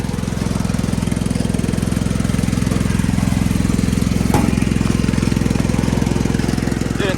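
Old barn-find Wheel Horse garden tractor engine running with some blow-by, a loud, close, rapid chugging putter that holds steady throughout.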